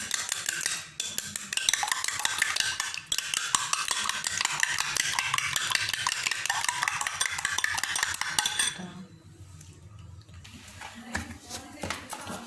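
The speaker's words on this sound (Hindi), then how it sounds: "पहले शामी को फ्राई करने के लिए सबसे पहले हम अंडे को अच्छे से फेंट लेंगे।" Eggs are beaten hard in a bowl for chicken shami, giving rapid, continuous clinking strokes of a utensil against the dish. The whisking drops to softer, sparser taps near the end, with a voice speaking faintly.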